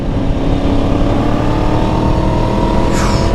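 A Yamaha MT-10 motorcycle in sport mode accelerates hard, its engine note loud and close and climbing in pitch as it pulls away.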